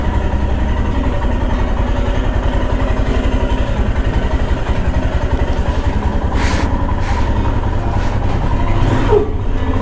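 A Royal Enfield Himalayan motorcycle with a tank bag fitted idles steadily after starting, a close, even low thrum running throughout with a few faint higher clicks near the end.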